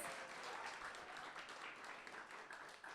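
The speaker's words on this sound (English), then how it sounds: "let's give a round of applause" An audience at a poetry reading applauds steadily, a dense patter of many hands clapping together for a few seconds.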